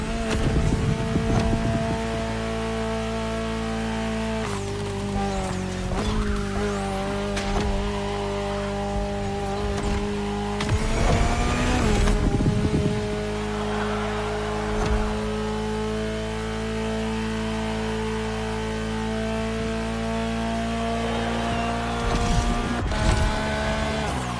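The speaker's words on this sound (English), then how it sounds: "Incredible to see this stunning concept car in action. This is the hydrogen-powered Alpine Low-High 6" A hydrogen-powered Alpine Low-High 6 concept race car in The Crew Motorfest drives hard, its engine droning loudly and steadily, with revving shifts and brief tire squeals breaking through.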